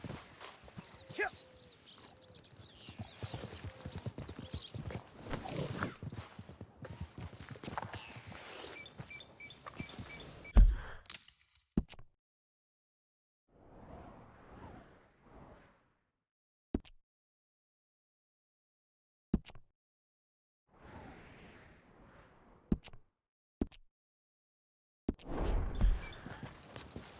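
A horse in Red Dead Redemption 2 clip-clops along with soft, rhythmic hoofbeats under ambient game sound, then quieter stretches with a few isolated knocks and rustles.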